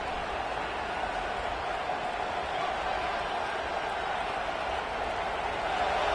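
A stadium crowd in an NCAA football video game roars as a dense, steady wash of cheering that holds at constant loudness throughout, loud and enveloping.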